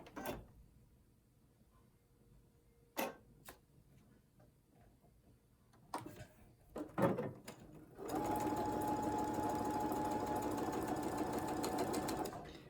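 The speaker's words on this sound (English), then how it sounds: "we're going to actually be sewing right on that line" Sewing machine stitching a diagonal line across quilt blocks, with a few clicks and knocks first, then a steady loud whir of continuous stitching for the last few seconds.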